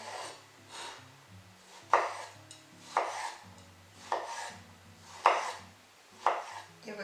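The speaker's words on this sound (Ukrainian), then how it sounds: "Нарізаю ось такими скибочками" A knife slices a persimmon into slices on a board, a series of crisp cuts about once a second, close and fairly quiet.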